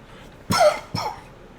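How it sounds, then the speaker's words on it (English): Two sharp coughs close to the mic, a burst at about half a second and a second shortly after, then quiet. "Oh, coughing fit."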